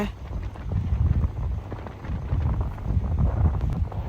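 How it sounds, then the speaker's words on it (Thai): Strong wind buffets a microphone during a Thai cycling ride along the Phrao route, a continuous low rushing roar that swells and dips without pause, with no talk over it. "ได้ยินเสียงลมก็ลมค่อนข้างแรงเหมือนกันค่ะ"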